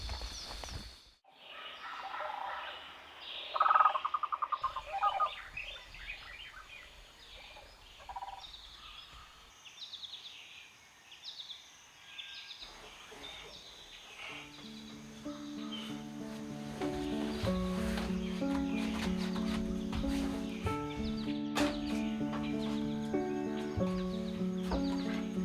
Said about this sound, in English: that's me, waking up to different sounds of birds and animals in the forest